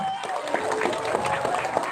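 A crowd applauds, a dense patter of many hands clapping at once, steady and moderately loud with some voices mixed in.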